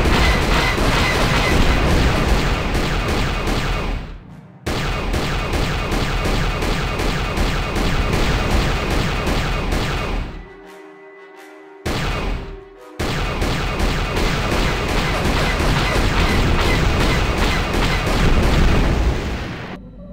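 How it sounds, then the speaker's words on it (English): Incoming weapons fire in the Star Wars: Knights of the Old Republic video game, a dense, loud barrage of booming blasts and rapid shots that runs almost continuously, dropping out briefly twice before resuming at full strength. "Incoming fire!"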